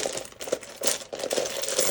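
Small dice tumbling out of a large bag, a quick clattery spill of hard little clicks and rattles in bursts over about two seconds, close and fairly loud, with no talking.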